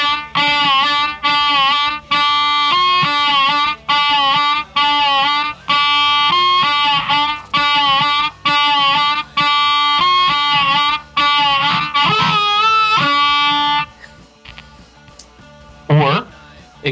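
Harmonica plays a driving backing rhythm, a fast run of choppy repeated chords with short gaps between them, then a bending slide and a trailing final note.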